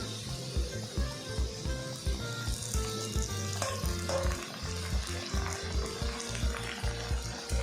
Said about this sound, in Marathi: आता यामध्ये कढीपत्ता घालूया.